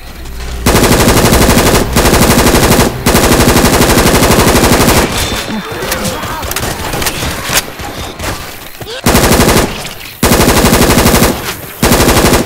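Automatic HK416 rifle fire in Left 4 Dead 2, long loud sustained bursts at the start and end, with a busier stretch of mixed game action in between.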